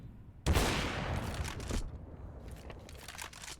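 A single loud, sharp AWP sniper rifle shot in Counter-Strike cracks out and decays, followed by fainter scattered gunfire and clatter in the background.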